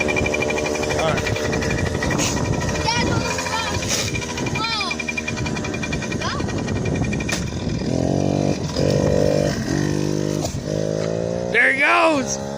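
A dirt bike engine idles with a steady buzzing drone, then revs up in short rising bursts near the end, loud and close, with people talking over it.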